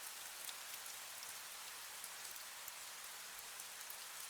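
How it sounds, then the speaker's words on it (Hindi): Steady rain falls on a surface in a dense, even patter that holds at the same level throughout, with no voices or other sounds. "बारिश और तेज हो गई।"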